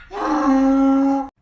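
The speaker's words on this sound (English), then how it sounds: "Donkey." A donkey gives a single sustained, groaning bray lasting just over a second, loud and close, which cuts off abruptly.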